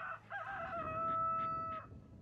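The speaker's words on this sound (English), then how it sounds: "listening to my roosters have a cock-a-doodle-doo" A single rooster crows once, a drawn-out cock-a-doodle-doo heard from a moderate distance against a low background rumble.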